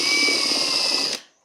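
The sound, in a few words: power drill drilling out rivets on a toolbelt bag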